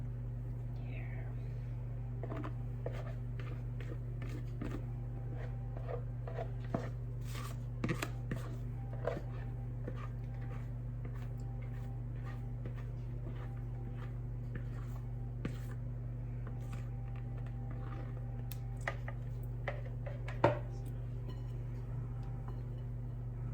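Egg whites being gently folded into Japanese cheesecake batter, heard as soft, sparse scraping and squishing taps over a steady low background hum, close and quiet, with a brief louder knock near the end.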